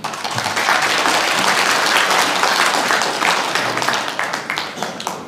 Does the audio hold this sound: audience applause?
yes